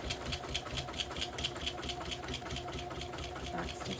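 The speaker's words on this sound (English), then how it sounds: "You're gonna sew along here, again, using the seam allowance called for in the pattern." A sewing machine stitches a seam on a tote bag, running as a fast, steady mechanical whir with rhythmic needle ticks throughout, close and continuous for about four seconds.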